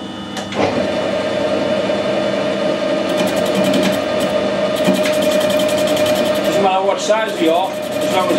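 A metal lathe faces washers set up to check tailstock alignment, giving a continuous whirring drone with intermittent scraping cutting noise throughout, fairly close and steady.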